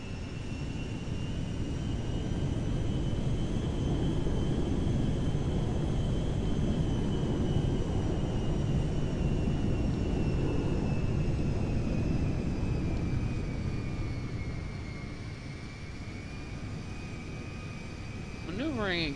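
Steady roar and whine of DC-10 airliner engines in the video game FiveM, a continuous loud drone with high tonal hum that holds for many seconds and dips slightly near the end.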